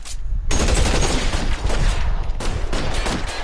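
Gunfire in the video game LA Noire, loud sustained bursts of rapid shots with a brief gap before a fresh volley, dense and close with no talk.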